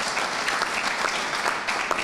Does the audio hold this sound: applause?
yes